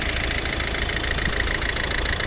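A 2011 Volvo C30 1.6 D2 diesel engine idles steadily with a constant low rumble and mechanical clatter, close by, with no voices.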